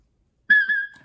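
A shepherd's whistle gives a walk-up command to a herding dog: one short clear whistle with a quick rising start and a sustained tone that fades out.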